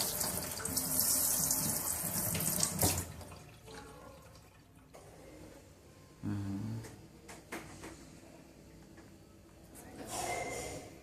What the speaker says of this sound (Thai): ล้างน้ำเลยไหมอีดล้างน้ำให้ดูล้างน้ำ